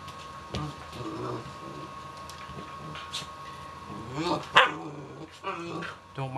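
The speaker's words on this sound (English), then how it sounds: "Don't mind the pups, they are wrestling in the background." Puppies wrestling indoors in the background, giving growls, yips and a few barks, faint to moderate and partly under someone talking.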